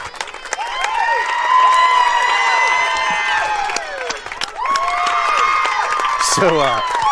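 Spectators at a high school softball game between the Hernando Tigers and Center Hill Mustangs cheer and shout loudly after a home run, a sustained burst of excited voices and whoops with a brief dip before rising again.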